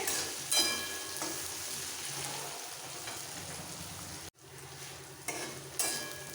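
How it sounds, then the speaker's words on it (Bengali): Chopped onions sizzle steadily as they brown in a hot pan for chicken curry, with occasional scraping stirs and a brief break before the frying hiss resumes. "এবার পেঁয়াজটাকে একটু ব্রাউন করে ভেজে নিতে হবে"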